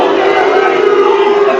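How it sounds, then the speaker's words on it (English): Altrincham supporters at a football match against Aldershot Town produce a steady, loud crowd roar of booing that holds at an even level without a break. "The Alti fans booing because Josh Barrett wasn't booked."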